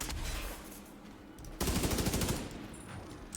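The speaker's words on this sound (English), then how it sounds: "How am I getting shot?" Gunfire hitting the player in the video game The Division 2, a loud burst of rapid automatic shots lasting about a second amid quieter game ambience.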